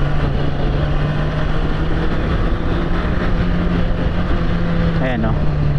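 Honda CBR650R motorcycle engine braking on a twisty European mountain road, a steady low engine drone held under heavy, constant wind rush for several seconds.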